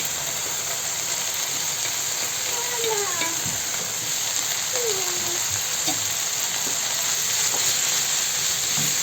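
Falafel frying in hot oil makes a loud, constant sizzling hiss, broken by occasional clinks and scraping from a utensil and a few short squeaks, all close and continuous.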